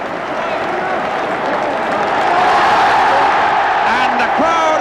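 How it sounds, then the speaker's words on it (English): A large football crowd roars and cheers at a West Ham cup final, a dense, sustained wash of voices that swells slightly, with scattered whistles and shouts near the end. "And the crowd at the far end rise in salute."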